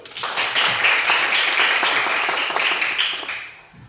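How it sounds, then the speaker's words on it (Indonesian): A class of students applauds on cue in a classroom, a loud, dense burst of clapping that holds steady for about three seconds before tapering off. "Kasih tepuk tangan dulu."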